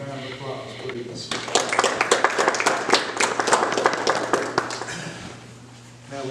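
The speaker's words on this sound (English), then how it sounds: "join me in giving our board members a round of applause" A crowd at a school board meeting bursts into applause: dense, sustained clapping for several seconds that then tapers off, with a faint voice nearby.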